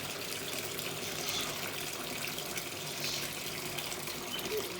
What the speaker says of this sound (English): So when you've peeled the beans, you just have to keep running the water.